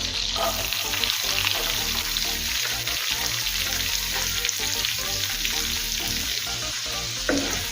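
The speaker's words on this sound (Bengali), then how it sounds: "পেঁয়াজটা হালকা করে ভেজে নেবো" Large chopped onions fry on a tawa in a spoonful of vegetable oil and a spoonful of butter for paneer bhurji, a steady, loud sizzle with occasional stirring scrapes and no speech.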